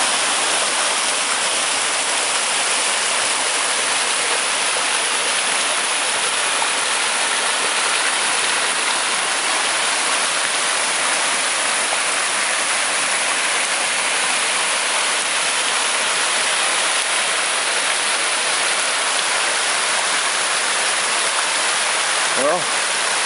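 A creek flows strongly after rain along the Appalachian Trail, a steady, dense rush of water running unbroken and close for the whole stretch, with no voices over it.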